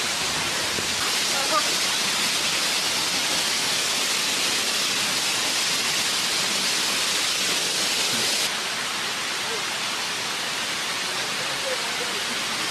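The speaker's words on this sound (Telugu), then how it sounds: "చిన్న వాటర్ ఫాల్ పైన ఉందండి ఇంకోటి" A small waterfall at Maredumilli produces a steady, dense rush of falling water that stays loud and even throughout, heard close at hand with no clear voices over it.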